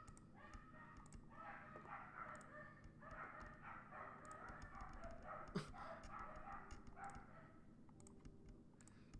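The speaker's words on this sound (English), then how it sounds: "there's a ton of dogs suddenly going nuts outside of my house" Many dogs bark in a repeated, overlapping chorus outside a house, faint and distant, with close keyboard clicks and typing over them.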